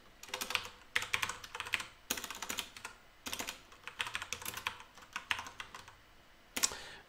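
Fingers clatter over a computer keyboard while code is written, in quick bursts of closely spaced keystrokes broken by short pauses, close and crisp with no talking.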